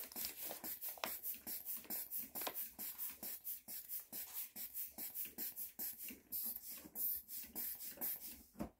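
A hand pump works the water tank of a portable Boxio Wash shower in a steady run of rhythmic strokes, each a short hissing push of air, close and fairly quiet with no talking.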